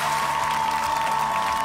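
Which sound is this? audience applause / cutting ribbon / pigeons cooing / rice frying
audience applause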